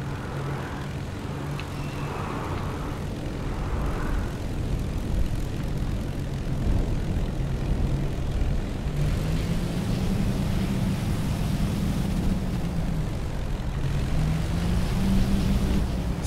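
A propeller plane in the video game Crimson Skies drones steadily through the air, its engine tone rising and falling slightly as it flies, with no voices.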